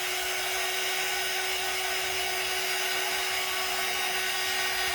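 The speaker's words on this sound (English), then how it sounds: "He don't like the dryer." A steady, loud hair dryer whirs continuously with a high airy hiss and a constant hum, no breaks and no voices.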